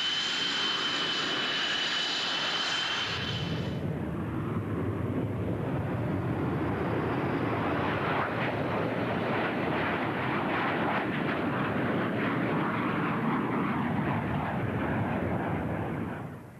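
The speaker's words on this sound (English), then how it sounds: "Harry's first Hornet flight begins." A Hornet jet fighter in flight on a test flight: a broad, loud roar of jet engine noise that swells in after a few seconds and holds steady and close, with no voices.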